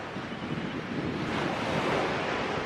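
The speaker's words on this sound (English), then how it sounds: "you hear the waves crash into the shoreline in front of you" Ocean surf rolls steadily against the shoreline in a continuous broadband wash, with wind buffeting the microphone and no voices present.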